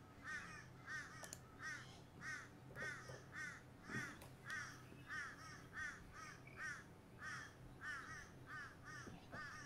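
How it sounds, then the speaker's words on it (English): Crows outdoors caw over and over in an even rhythm, about fifteen calls at moderate distance, with faint background noise. "Is it mating season for them birds out there near you?"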